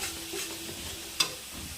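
Onion frying in a pan with dried red chilli, cinnamon, cardamom and bay leaf gives a soft, steady sizzle, with one sharp clink of a utensil partway through and no talking.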